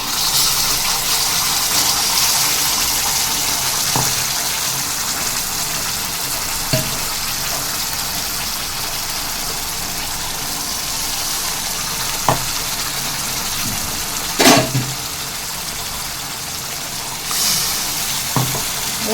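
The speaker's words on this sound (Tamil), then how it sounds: "இப்போ பார்த்தீங்கன்னா இந்த அரைச்ச பேஸ்ட்டை வந்து நம்ம இது கூட ஊற்றிடலாம்." Ground masala paste is poured into sautéed onions for a pepper crab fry, and a steady oil sizzle with gushing runs throughout, while a few sharp spoon or pan knocks ring out alone.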